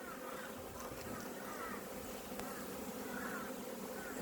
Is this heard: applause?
no